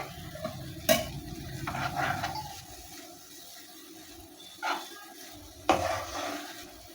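Ghee is mixed into motichur ladoo mixture in a pan, with soft stirring and scraping and a few sharper clinks of spoon against metal, close and fairly quiet.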